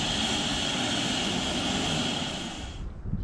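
A medical helicopter passes overhead with a steady loud rotor and engine roar, fading out at the end.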